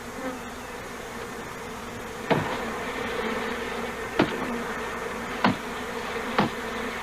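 A loose, undefined swarm of honeybees drones in a dense, continuous buzz, with a few sharp knocks or taps cutting through at irregular intervals.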